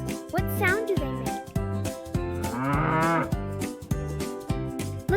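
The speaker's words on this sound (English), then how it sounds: "Here's a cow." A cow moos in a long, low, loud call close by, alongside a repeating rhythmic musical backing with light jingles.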